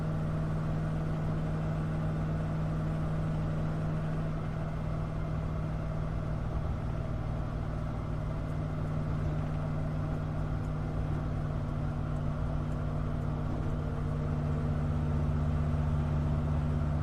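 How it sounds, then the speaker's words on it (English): A vehicle engine drones steadily while cruising at about 70 miles an hour on a highway, a constant low hum with road noise and no talk. "Engine sounds healthy for what it's worth."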